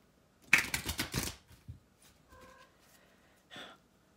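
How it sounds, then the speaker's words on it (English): Tarot cards being shuffled, a close, rapid run of crisp riffling flicks followed by a few softer shuffles and small handling noises at low level. "I have to shuffle a little bit, so be patient, because I haven't used these cards."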